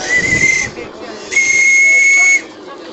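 Two shrill, steady whistle blasts from a radio-controlled model steam boat, the first short and the second longer, sound close by with a soft hiss between them.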